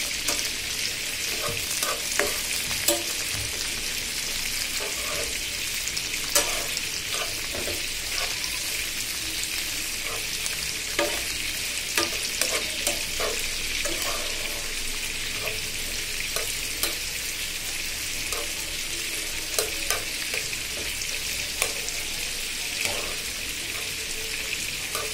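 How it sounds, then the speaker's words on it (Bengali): Tomato, onion, garlic and green chilli frying in hot oil, a steady, loud, close sizzle with crackling pops and occasional stirring scrapes throughout. "এদিকে চিংড়ি বোনা করার জন্য আমি টমেটো, পেঁয়াজ, রসুন, কাঁচামরিচ তেলে ভেজে নিচ্ছি।"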